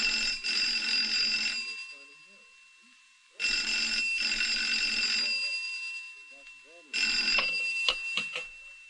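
A telephone rings in a radio drama, three loud bursts of a bright electric bell separated by pauses, the last cut short as the call is answered.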